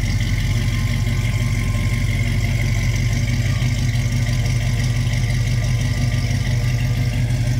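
1968 Pontiac Firebird convertible engine idling nearby, an even low rumble with a faint mechanical whir, steady and unbroken with no voices.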